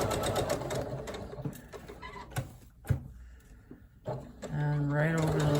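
Sewing machine stitching a second row all the way around a fabric mask: rapid whirring runs broken by short pauses, with a steadier, higher-pitched stretch at the end.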